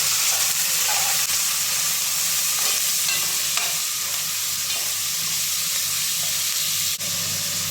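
Ginger garlic paste fries in oil for ghee rice, a loud continuous sizzle close up, with intermittent scraping of a spoon stirring through it and no voices.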